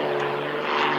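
A propeller aircraft engine roaring steadily at an airshow as the plane hangs vertically on its propeller in a torque roll, loud and sustained with a droning tonal hum throughout.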